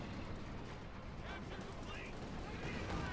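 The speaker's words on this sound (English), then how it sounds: "Panther firing away." Panther tank firing in Company of Heroes 2 during a Wehrmacht versus US Forces match, heavy cannon and gunfire rumbling in a thick, constant battle mix beneath a commentator talking.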